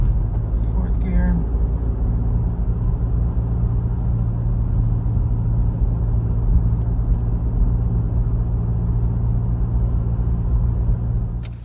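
A Toyota Prado with a 1KZ-TE diesel engine cruising in fourth gear at around 35 mph, giving a steady, loud low-pitched engine drone and road rumble that holds level throughout, with no talk over it.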